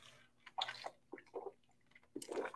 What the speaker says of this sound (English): Whew, all that talking, now I need a drink.